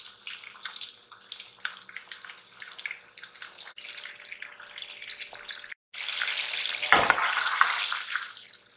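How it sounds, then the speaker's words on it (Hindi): Beef pieces dropped one by one into medium-hot oil for dry beef chili, giving a crackling, uneven sizzle that briefly stops, then swells louder and fuller. "अब गोश्त के पीसेस को एक एक करके इसमें डाल दें।"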